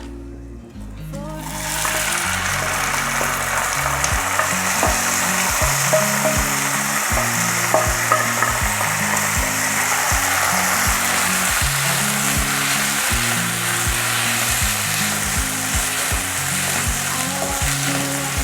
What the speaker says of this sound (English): And just mix it like this, bringing all the jeera from the edges to get mixed with rice like this.